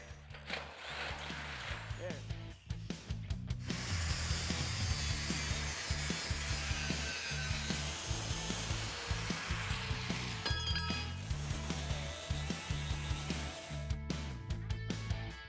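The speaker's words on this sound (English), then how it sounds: "What we're going to do is just drill through the center of it" A harsh, grinding drill whines steadily through a steel rivet for most of the stretch, with short stops and restarts, and a voice talking briefly, while installing a C-notch kit on a Chevy C10 frame.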